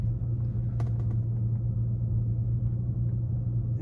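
Steady low interior rumble inside a car driving on the road, a constant droning hum with a brief knock or bump near the start and no voices.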